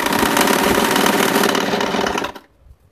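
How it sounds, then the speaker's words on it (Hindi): A sewing machine running fast and steady as it stitches fabric for a homemade bag, a loud close whirring hum that stops abruptly near the end. "ये पूरा हम इस ढंग से सिल देंगे।"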